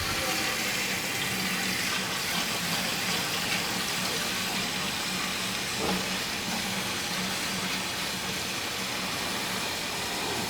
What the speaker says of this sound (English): Okay, fill it with water.